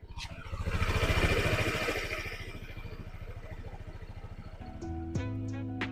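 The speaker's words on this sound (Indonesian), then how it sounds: "Nah kayak gitu suara mesinnya." A 2025 Honda Vario 160cc scooter engine idles close by with a smooth, rapid, even putter that swells briefly after start-up and then settles, with a few electronic tones near the end.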